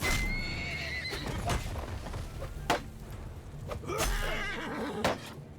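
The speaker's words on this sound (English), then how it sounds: "Get out of there, horse." A horse in the medieval battle game Mount & Blade II: Bannerlord neighs loudly among clopping hooves, with a second whinny later, against a steady battlefield background.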